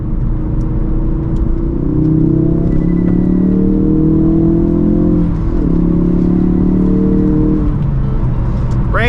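Ford Focus RS accelerating hard in third gear while overboosting, a loud close engine drone climbing steadily in pitch for several seconds, a brief dip as revs settle, then climbing again.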